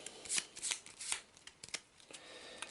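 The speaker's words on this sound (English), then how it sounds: "give him a good shuffle." A deck of Arkham Horror game cards is riffled and shuffled up close, with several quick, crisp papery bursts in uneven rhythm over a few seconds on a tabletop.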